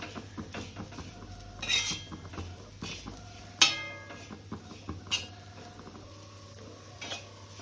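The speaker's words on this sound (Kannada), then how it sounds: "ಎಲ್ಲ ಮಿಕ್ಸ್ ಮಾಡ್ಕೊಳ್ರಿ ಚೆನ್ನಾಗಿ." Bitter gourd fry with red chilli powder and spices being stirred in a pan, a metal spoon scraping and clinking against the pan in irregular strokes, with a few sharper clanks standing out close by.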